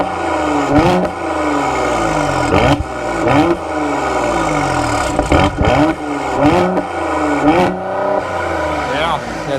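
A Mercedes-AMG GLE SUV in Sport Plus mode revs repeatedly through its stock exhaust, each loud rise ending in sharp crackles and pops, with voices talking between the bursts.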